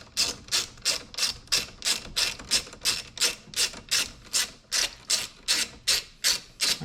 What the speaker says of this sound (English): Now we're just going to use a 10mm socket to connect these.